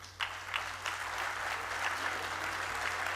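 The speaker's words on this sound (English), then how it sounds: "Please welcome them with applause." An audience at an honorary fellowship awards ceremony breaks into steady applause, many hands clapping together in a continuous wash that builds after a few scattered opening claps.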